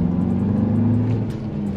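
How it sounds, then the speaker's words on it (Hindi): A Tata Safari Phase 2 engine held at high RPM as a steady, close drone with strong low hum, no talk over it. "हायर आरपीएम पे ले जाके दिखाता हूँ, ये देखो"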